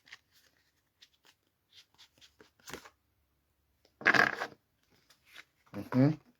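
A deck of tarot cards being shuffled at close range in a quiet room, with soft scattered card ticks followed by two louder riffling bursts. Brief quiet speech occurs between them.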